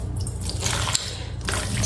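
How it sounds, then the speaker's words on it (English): Water poured onto sugar and yeast in a bowl while baking bread, a soft continuous trickling splash lasting about two seconds, fairly quiet and heard alone. "And I pour some water."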